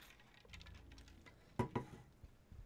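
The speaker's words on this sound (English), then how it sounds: "that was my ice in my drink" Ice clinks in a drink, a quick pair of sharp glassy taps followed by faint rattling, quiet and close, after some light tapping.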